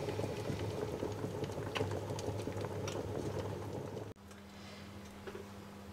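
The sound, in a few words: water boiling in a pot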